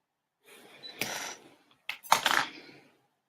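Craft wire trimmed with cutters while making a wire ring, giving two short, close metallic snips about a second apart in a quiet room.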